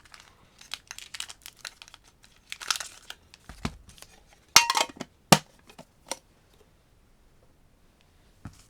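Pokémon 151 booster packs torn open and handled, foil wrappers crinkling and crackling in irregular bursts up close, with sharper tearing snaps midway before trailing into near silence.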